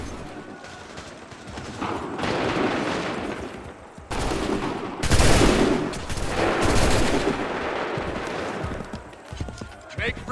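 Musket volleys crack out in the Assassin's Creed 3 battle, dense bursts of overlapping gunfire rolling over a noisy field of horses and shouting voices, loud and close.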